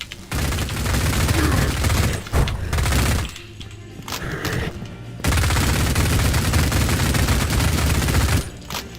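Dense, sustained gunfire fills a boss fight in the retro shooter Cultic, with rapid loud shots and booms running nearly continuously, easing briefly in the middle before surging back.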